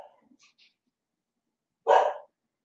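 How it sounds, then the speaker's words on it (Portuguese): A dog gives a single short, fairly loud bark in an otherwise quiet room, after a few faint, soft sounds at the start. "E de vez em quando ela late, tá?"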